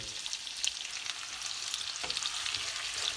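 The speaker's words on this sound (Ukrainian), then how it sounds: "Просто перемішуємо, перемішуємо мішаємо, не зболтуємо" Food is stirred in a hot frying pan, a steady bright sizzle with soft scraping movements running through it, close and continuous.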